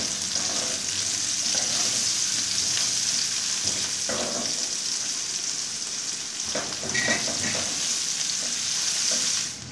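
Onions frying in garlic ginger paste give a constant close sizzle, broken by occasional stirring clanks and scrapes of a spoon against the pan, with no voice.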